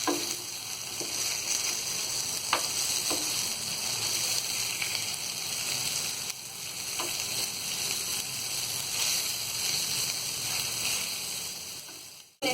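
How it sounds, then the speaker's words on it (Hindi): Peshawari chapli kababs, pressed flat while they cook, fry in a pan with a steady, dense sizzle that runs throughout, close up, with a few faint clinks of utensils. "ये देखिए कबाब सिकने लगे हैं और इसे हमने थोड़ा ऐसे दबा दबा के भी सेका है"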